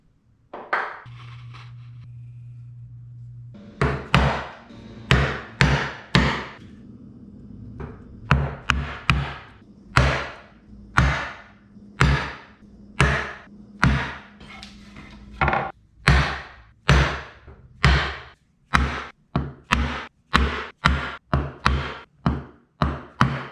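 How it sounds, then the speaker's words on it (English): Chisel and mallet chopping a crossrail mortise into a wooden bench side, a long run of sharp, close, irregularly spaced knocks and thuds after a brief low hum at the start. "I mark out and chop a crossrail mortise into both of the sides"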